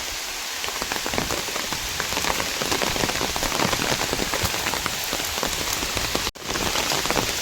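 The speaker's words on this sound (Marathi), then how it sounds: "पाऊस बघा भरपूर आहे मंडळी." Heavy monsoon rain pours steadily on a village in the Konkan region, a dense, loud and continuous hiss of drops hitting surfaces with no voices, broken only by a momentary dropout near the end.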